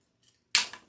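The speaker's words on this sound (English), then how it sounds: "I'm going to go ahead and I'm going to cut this off some." A single quick snip of scissors cuts through peach-colored wreath material, sharp and close after near silence, followed by a short rustle.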